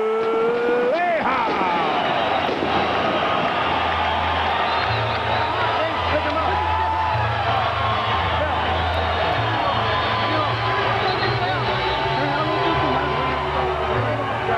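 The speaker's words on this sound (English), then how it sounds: "A huge roar from the highly partisan crowd" Highly partisan boxing crowd roaring after a world lightweight title fight decision, a loud, continuous wall of cheering and whooping that swells and holds throughout with an announcer's voice underneath.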